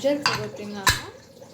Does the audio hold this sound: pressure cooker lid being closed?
yes